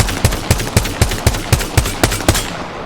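Rapid semi-automatic shots from a G7 Scout rifle in the video game Apex Legends, about nine sharp cracks at an even quick rhythm, loud and close with no talk over them.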